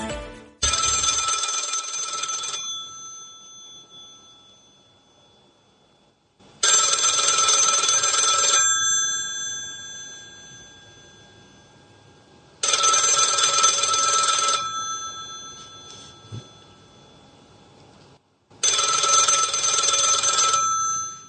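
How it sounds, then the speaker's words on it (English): A telephone bell rings on a radio show in four loud, evenly spaced two-second bursts separated by quiet gaps, with no talk over it. "if the phone rang in the White House at 3 o'clock in the morning"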